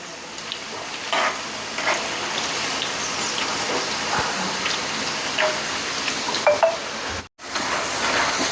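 Potato French fries deep-frying in oil over a full flame give a close, steady, rain-like crackle and bubbling that continues throughout, with a brief dropout near the end and no talking.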